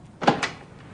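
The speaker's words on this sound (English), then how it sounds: "Here's the door to the surgery, Paul." A door to a dentist's surgery in London opens with two quick, close broadband sounds, a latch click and then a short swing, against a quiet room.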